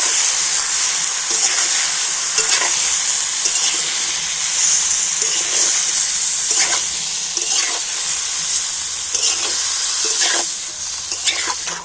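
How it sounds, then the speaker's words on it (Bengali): Chopped tomatoes fry with spices in a pan for tomato pickle, giving a steady bright sizzle broken by repeated scraping stirs, close and loud. "তো টমেটোটা দিয়ে একটু ভালো করে মশলার সাথে নাড়াচাড়া করে নেব।"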